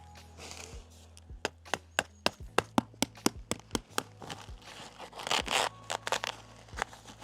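Ground membrane pegged to soil for a hot tub gravel base is cut away at the edges, giving a run of sharp snipping and tearing clicks in quick succession, then a denser rustling crunch, close and fairly quiet.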